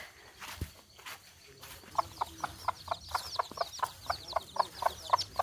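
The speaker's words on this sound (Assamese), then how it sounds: "এইটো আমাৰ মুৰ্গী হয় এইটো এটা মুৰ্গী" A village chicken clucking nearby in a quick, regular series of short calls that starts after a moment of quieter ambient noise and a few faint knocks.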